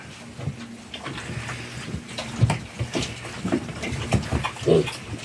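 Several weaned piglets from two litters eat feed together in a pen, with close, steady chomping, snuffling and grunting throughout and no talking over it.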